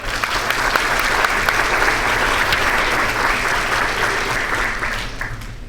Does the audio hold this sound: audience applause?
yes